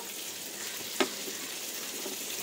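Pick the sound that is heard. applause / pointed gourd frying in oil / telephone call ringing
pointed gourd frying in oil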